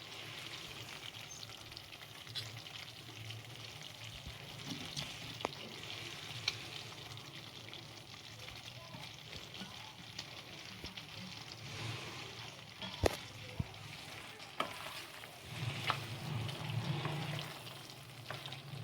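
Beetroot-coloured pasta being stirred into a sizzling gravy in a pan, giving a steady frying hiss with occasional scrapes and knocks of the spoon, moderately close and without any talk.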